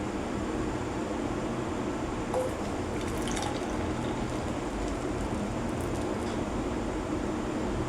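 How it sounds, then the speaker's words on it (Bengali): Evening milk tea strained through a sieve, a steady close trickle and drip of liquid over a low room hum. "চাটা ছেঁকে নিলাম।"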